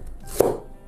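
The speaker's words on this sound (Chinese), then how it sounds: "咱们切点大葱花" A single crisp knife chop through green scallions on a cutting board, prepared as aromatics for a Hui-style braised beef brisket dish; one sharp, close, isolated stroke in a quiet kitchen.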